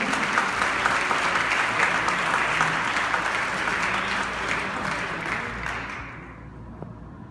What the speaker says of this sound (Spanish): Lo recibimos con un cordial aplauso.